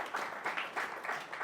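An audience applauding at a health seminar, a dense wash of clapping at a moderate, steady level that swells and eases slightly throughout.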